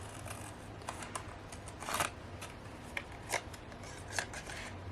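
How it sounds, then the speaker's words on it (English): Scissors snipping around the edges of a paper tag for a junk journal, a series of scattered close crisp cuts and rustles at an uneven pace, with no one speaking. "And then just pretty much cut around the edges here to match the one that I cut first."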